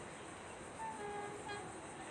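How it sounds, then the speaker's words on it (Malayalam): A train horn sounds near a closed railway level-crossing gate in the evening as the train approaches: two brief, faint tonal toots, distant and thin over steady background hiss. "ഇതാ ട്രെയിൻ വരുന്നുണ്ട് കേട്ടോ."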